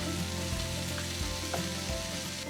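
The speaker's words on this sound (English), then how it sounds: "Heat a few tablespoons of oil in a pan and sauté everything until the sausage slices begin to brown around the edges" Sausage slices and mixed vegetables sauté in oil in a pan, giving a steady, gentle sizzle with a few soft stirring scrapes, heard up close and without speech.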